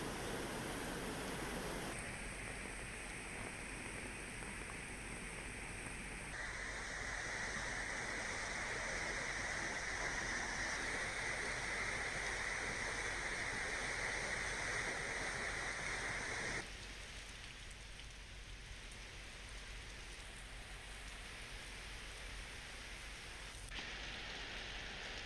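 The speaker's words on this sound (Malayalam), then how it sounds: "കോഴിക്കോട് വയനാട് മലയോര മേഖലകളിൽ ശക്തമായ മഴ തുടരുകയാണ്." Heavy monsoon rain falls over the hill country of Kozhikode and Wayanad, where rivers are swollen, making a steady, dense hiss throughout that eases slightly toward the end, with no voices.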